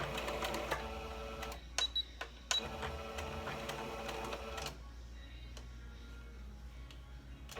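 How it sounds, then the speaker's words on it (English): A sewing machine stitches a half-inch seam in steady rapid bursts, its mechanical clatter close and fairly loud, pausing briefly near the middle before running on and easing into a quieter hum toward the end. "I go ahead and I make a 1/2 inch seam."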